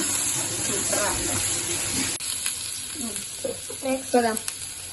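Green chillies sautéing in oil, a dense sizzle that dominates the first half and then thins, with someone talking over the quieter second half.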